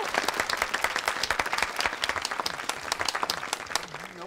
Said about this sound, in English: let's all give a huge round of applause to the man who is responsible for this charity, Father Matthew of the Rutherford Boys Home.